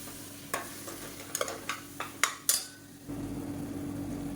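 Blended tomato paste sautéing in oil in a pan for a kuzhambu, with several sharp spoon clanks and scrapes against the metal pan over a low steady sizzle that swells louder once stirring stops.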